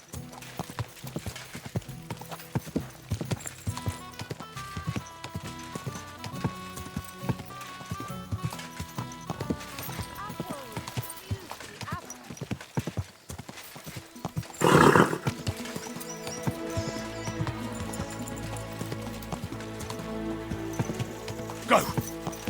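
Horse hooves clip-clop in the video game Kingdom Come: Deliverance II, a steady rhythmic patter layered under dense orchestral music with a brief loud burst midway.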